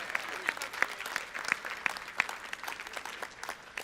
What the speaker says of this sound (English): Everyone clap your hand for Dorothy for putting herself out there.